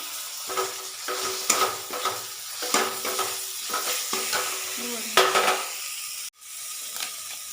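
Chopped tomatoes frying with spices in a pan, a close bright sizzle punctuated by repeated scraping stirs, cutting off abruptly near the end, with no talking.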